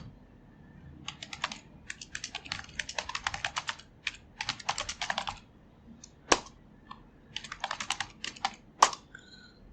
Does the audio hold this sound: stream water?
no